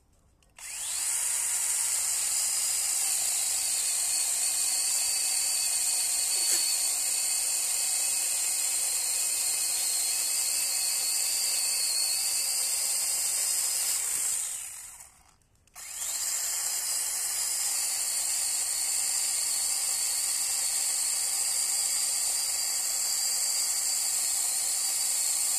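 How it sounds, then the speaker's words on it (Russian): An Onevan cordless mini chainsaw cuts wood with a steady high whine, running continuously for about fifteen seconds, stopping briefly, then resuming for a second long cut, close and loud with no talk. "испытание ручной цепной аккумуляторной пилы Ониван на реальных условиях"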